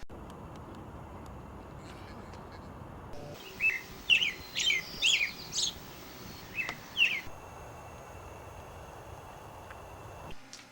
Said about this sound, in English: American robin